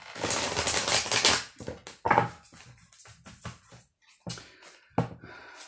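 Playing cards are shuffled and handled during a card reading, producing quick bursts of riffling flutter followed by scattered soft slaps and taps as cards are set down, close and moderately loud.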